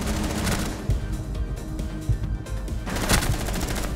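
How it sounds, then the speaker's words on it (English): Rapid automatic gunfire in the tactical shooter video game Rainbow Six Siege, loud sustained bursts with short gaps and sharp reports near the end. "I can't believe none of those bullets hit the fucking Legion"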